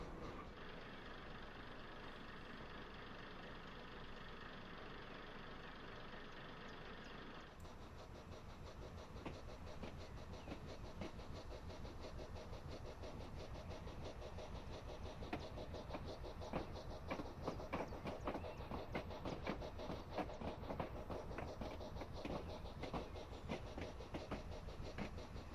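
A Weardale Class 101 diesel multiple unit in a train simulator: a steady engine drone that picks up at about eight seconds and grows into a rougher, pulsing rumble as the power builds, with no voices.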